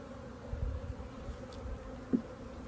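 Honeybees in a nucleus hive box being worked with smoke, a low, steady buzz drifting through the background with a brief louder hum near the end.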